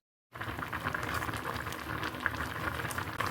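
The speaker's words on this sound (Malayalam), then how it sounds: "ഇപ്പോൾ കണ്ടോ കഷ്ണങ്ങളൊക്കെ നന്നായിട്ട് തിളച്ച് വന്നിട്ടുണ്ട്." Vegetable curry pieces boil steadily in a pan on a low flame, a continuous close bubbling and hissing that starts abruptly and holds even for a few seconds, with no voices.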